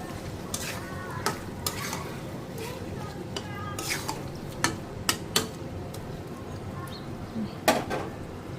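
Fish and potatoes with spices are stir-fried in a pan, giving a low continuous sizzle with scattered sharp scrapes and taps of a spatula, close by and faint.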